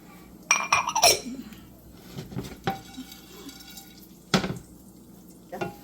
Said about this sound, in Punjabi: ਇਸ ਤੋਂ ਬਾਅਦ ਆਪਾਂ ਇਹਦੇ ਵਿੱਚ ਛੋਲਿਆਂ ਦੀ ਦਾਲ ਪਾਵਾਂਗੇ